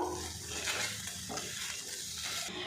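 Grated raw potato snack is stirred with tomato sauce in a hot pan, a continuous close sizzle layered with scraping, shuffling spatula strokes, with no voices.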